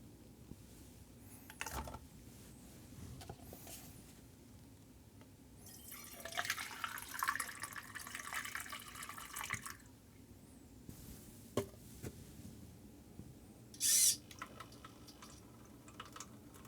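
Liquid trickles from a homemade servo-driven drink dispenser, a soft pouring hiss lasting a few seconds amid faint drips and clicks, with a sharp brief splash or spurt near the end.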